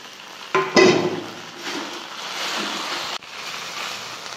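Sabudana poha with peanuts being stirred and fried in a pan, a steady sizzle with scraping stir strokes, louder bursts early on as ingredients are turned, then a continuous moderate frying hiss.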